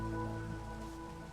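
Steady rain falls in the Minecraft SevTech modpack, a soft continuous hiss of drops at low level with no talk over it.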